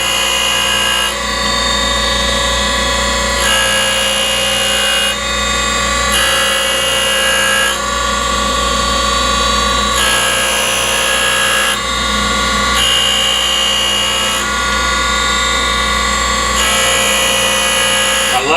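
A Boyar Schultz Challenger Deluxe 2A surface grinder runs with a steady motor hum while a high ringing whine rises and drops in long regular passes, loud and close.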